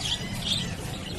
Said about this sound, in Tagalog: Dami ibon, no?